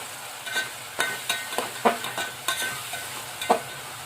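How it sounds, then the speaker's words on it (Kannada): Oil heating in a pan on a low gas flame gives a soft, faint sizzle, with a series of sharp stirring clicks and scrapes at irregular intervals, close by. "ಇದು ಚೆಂದಾಗಿ ಎಣ್ಣೆ ಬಾಯ್ಲ್ ಮಾಡ್ಕೊತೀನಿ ರೀ"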